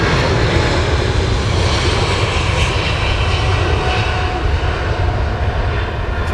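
A DHL cargo aircraft comes in to land on runway 27 at London Heathrow, its engines producing a loud, steady roar that holds throughout, close and unbroken.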